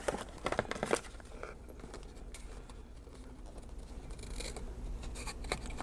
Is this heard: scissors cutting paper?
yes